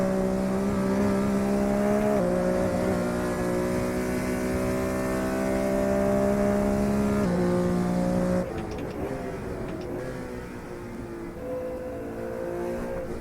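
Race car engine in a sim racing game, a loud sustained drone held at steady revs with shifts in pitch, changing character partway through as the revs drop and rise again.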